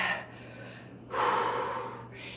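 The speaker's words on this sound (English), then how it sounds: "Breathe in." Deep breaths in and out during a gentle morning rebounder workout on a JumpTrack, close and airy, with a sharp intake followed by a long, strong breath.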